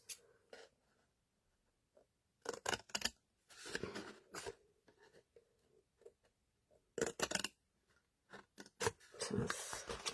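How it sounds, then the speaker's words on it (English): Scissors cutting paper up to a score line for a papercraft basket produce close, crisp snipping bursts separated by quiet pauses. "cut up to this score line here and here"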